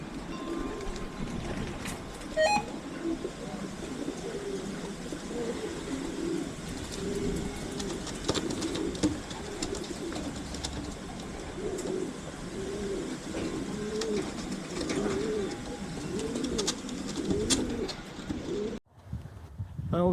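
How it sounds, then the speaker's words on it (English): A pigeon coos again and again in a steady, repeating rhythm, close and clear outdoors, with wind and low background rumble running underneath. "Here comes a pigeon now."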